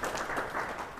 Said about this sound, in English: you just clap for him